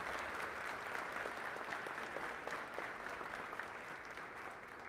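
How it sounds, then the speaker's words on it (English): Audience at a university convocation applauds in a large hall, a steady, even wash of many hands clapping, fairly distant and soft, with no voices over it. "Would you please give a round of applause to the President of the President's Cabinet?"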